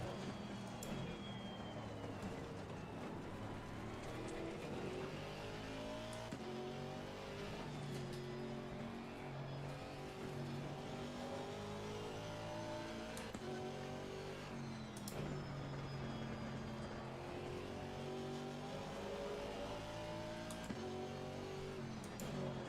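A race car engine revs hard in a racing video game, rising and falling through gear changes with a loud, continuous whine and occasional tire squeal, close and alone with no talk.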